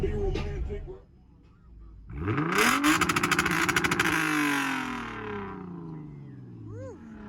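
Engines revving at a car meet, with a loud rising rev swelling into a sustained roar and rapid pops before falling away; voices are heard briefly at the start and a faint whistle-like tone near the end.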